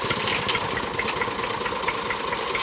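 A tractor engine runs at a steady idle close by, a loud continuous rumble with a rapid knocking pulse throughout.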